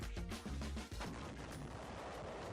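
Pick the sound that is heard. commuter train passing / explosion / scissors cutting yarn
explosion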